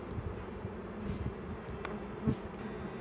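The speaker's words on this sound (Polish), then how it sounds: "Pszczoły jest giga dużo." Honeybees hum steadily from an open hive during a late-season colony inspection, a continuous close drone with occasional louder passes of individual bees near the listener.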